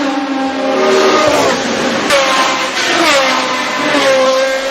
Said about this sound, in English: It was a naturally aspirated 3-litre V8 engine that was reliable, powerful, and great sounding.